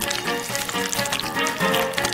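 Doughnuts frying in hot oil give a steady, dense sizzle and crackle that fills the whole stretch at an even level, close up, with no voices.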